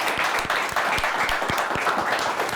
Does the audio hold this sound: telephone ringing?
no